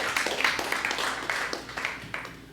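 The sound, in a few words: audience applause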